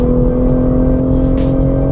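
A 2020 Toyota GR Supra with an 8-speed Steptronic gearbox driven on a track, its engine droning loud and steady from inside the cabin with a constant low hum and no talk.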